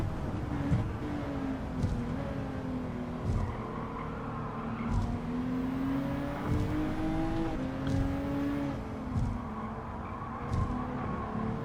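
A race car in Gran Turismo 7 accelerates with its engine tone climbing and dropping through repeated gear shifts, a steady near roar with rising pitch sweeps and short breaks at each change, alone without talk.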